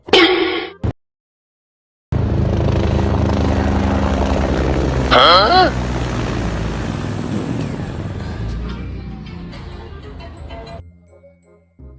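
A helicopter sound effect with a steady, loud rotor and engine drone that holds for about nine seconds after a brief opening burst and gap, then cuts off.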